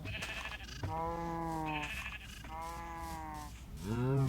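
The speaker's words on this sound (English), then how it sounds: "you can see there's already baby sheep there" Several sheep bleats in the Minecraft video game, long wavering cries repeating at a steady pace, one after another, with a deeper bleat at the end over a faint background.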